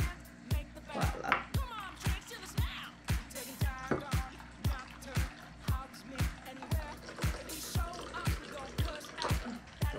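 A gin berry drink is poured into a glass, giving a quick, regular series of close liquid drips and splashes that continue steadily throughout.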